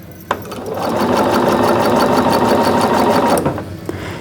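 A sewing machine runs one continuous, loud, close burst of about three seconds while stitching a quarter-inch seam on an economy quilt block, with a click at the start and the stitching winding down at the end.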